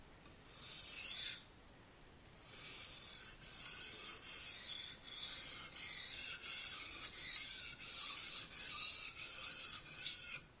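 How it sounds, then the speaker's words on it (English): A knife blade is drawn across a sharpening stone in repeated rhythmic strokes, about a dozen close, raspy scrapes with short gaps between them and one longer pause early on. "slowly lift the knife, and eventually you'll feel where the knife and the stone just kind of merge together"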